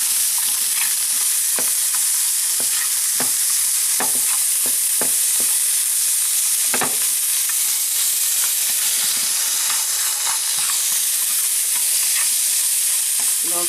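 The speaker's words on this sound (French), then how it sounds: "comme la graisse a fondu, j'enlève provisoirement la viande pour que les oignons cuisent d'abord" Onions frying in melted corned beef fat, a dense, hissing sizzle that stays loud and even, punctuated by occasional sharp pops and spoon taps; nobody speaks.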